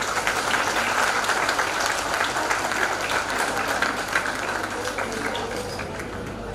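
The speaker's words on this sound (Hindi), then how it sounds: "एक जोरदार ताली उन छोटे छोटे नन्हे बच्चों के लिए।" A crowd gives a loud, steady round of applause for young children at a school gathering. The clapping holds dense and even for the whole stretch and eases only slightly near the end.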